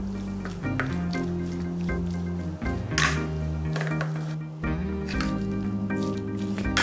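Shrimp mince is mixed by hand with green chilli, onion, pepper and soy sauce for wontons, a close, wet squishing and squelching kneaded in repeated pulses with a steady low hum behind, no voices.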